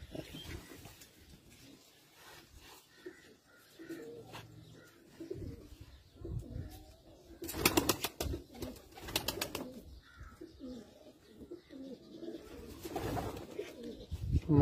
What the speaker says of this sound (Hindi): ये गोल्डन कबूतर